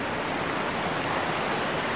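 Clear river water flowing steadily near a chapel, a dense continuous rushing wash heard close and loud without pause.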